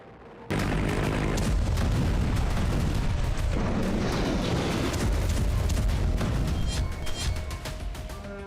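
Artillery and weapons fire during the Bharat Shakti military exercise at a firing range: a sudden onset into a dense, sustained roar of booms and blasts, loud and continuous with rumbling layered reports.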